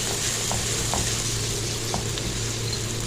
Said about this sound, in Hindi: अब हम इसमें डाल देंगे 1 प्याज, जिसे मैंने इस तरह से ऑमलेट कट में काट लिया है। और इसको हमने थोड़ा सा फ्राई करना।